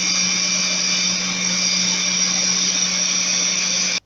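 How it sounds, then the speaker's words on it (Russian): An electric mixer whipping egg whites whirs steadily at high speed, a close, continuous mechanical drone with no pauses, cutting off abruptly at the end. "Продолжаем дальше взбивать."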